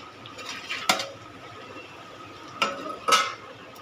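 A metal lid is set onto a cooking pot left on a medium gas flame, giving a few sharp clanks and rattles spaced over a few seconds against a quiet kitchen hiss.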